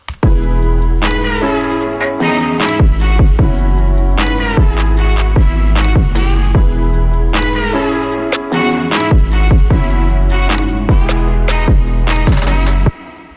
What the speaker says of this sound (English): So altogether, the main part of the song sounds like this.